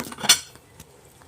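A metal lid is set on a cooking pot of ginataang langka (jackfruit in coconut milk), giving one sharp close clank followed by a few faint clinks.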